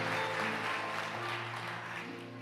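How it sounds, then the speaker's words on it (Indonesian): Congregation applause during a church sermon on depression: a dense, steady wash of many hands clapping over sustained music, filling the room and easing slightly toward the end. "Kita berikan tepuk tangan dulu yang dahsyat bagi Tuhan kita."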